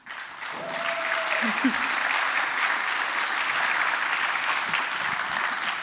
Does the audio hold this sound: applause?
yes